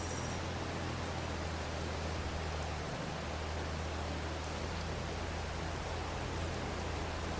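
Rain falling in the Farming Simulator 22 video game, a soft, even hiss over a low hum that holds steady throughout with no voices.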